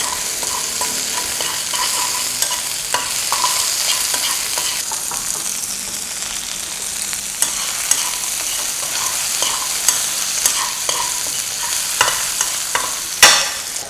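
Food sizzles steadily in a hot pan, a constant crackling hiss broken by occasional clicks of a utensil stirring against the metal.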